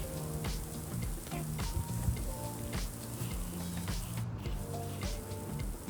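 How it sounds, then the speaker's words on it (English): Baking soda mixed with glitter crystals sprinkled onto foam ice terrain for a miniature, a soft continuous granular patter like light rain, close and steady throughout. "I'm going to take baking soda and sprinkle it on there"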